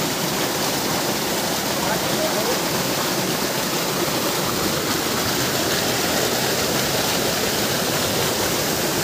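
Mountain water rushing at its source, a loud, steady broadband roar of flowing water like a waterfall or stream, continuous and close with no break.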